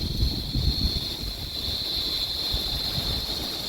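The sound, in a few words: wind blowing outdoors on a rainy day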